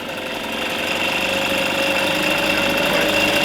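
A freshly rebuilt engine runs steadily while warming up, giving a loud, continuous rough drone with a faint knocking texture and no pauses.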